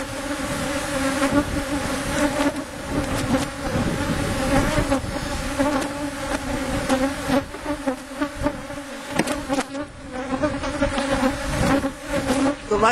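Dense, constant buzzing of many honeybees around an open beehive while frames are shifted during an inspection, loud and close throughout with no break.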